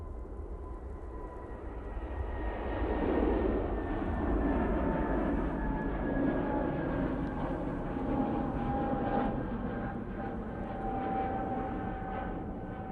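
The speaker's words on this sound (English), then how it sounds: "Lufthansa off to Munich" A Lufthansa airliner departs Manchester Airport for Munich, its engines a steady, distant broadband roar that swells slightly and holds for several seconds with a faint whine on top. No one speaks.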